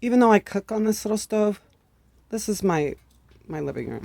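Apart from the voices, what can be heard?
No everyday noises stand out.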